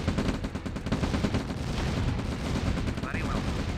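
Rapid gunfire and explosions from an EA video game crackle densely and loudly throughout, with a brief game voice chirp near the end.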